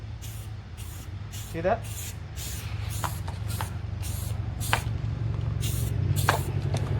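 Short hissing bursts of a spray can laying a light coat of primer on the roof of a Fiat 500, repeated in a steady rhythm of close, even pulses, with a voice speaking briefly partway through.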